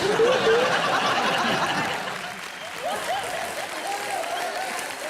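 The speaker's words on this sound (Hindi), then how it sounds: "जोरदार तालियां" A studio audience at an Indian comedy show claps and laughs, fairly loud applause at first that softens, with chuckles and a voice over the crowd.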